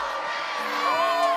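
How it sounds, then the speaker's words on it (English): A recording of a crowd cheering, whooping and yelling, a dense steady roar of many voices with rising shouts, loud and continuous throughout. "It's just people cheering."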